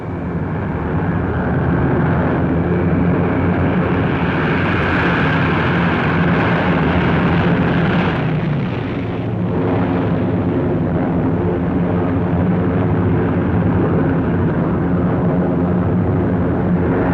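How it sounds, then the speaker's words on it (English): Waves of military planes drone overhead during the July 1944 Operation Cobra breakout from Normandy, a loud, dense, continuous engine rumble that swells near the middle and holds steady throughout, with no talk. "Again on the morning of July 25th, the planes came."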